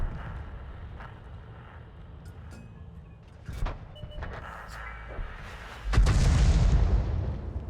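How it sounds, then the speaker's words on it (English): A tank gun in World of Tanks fires a single heavy boom near the end, preceded by a low engine rumble and a few faint clicks, with some talk over the top. "Let's just shoot this guy."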